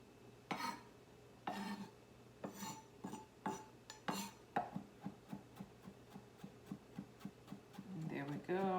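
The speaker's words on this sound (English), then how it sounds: "Just keep on mincing it." A big kitchen knife minces food on a cutting board. Scattered chops speed up into a steady, quick tapping rhythm, close and clear, with a person talking at times.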